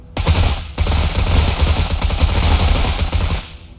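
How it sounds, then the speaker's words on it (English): Sustained automatic gunfire in the tactical video game Menace, loud and dense bursts of shots fired from inside a building at surrounding enemies, with no talking. "we could go ahead and open fire and then drop some grenades"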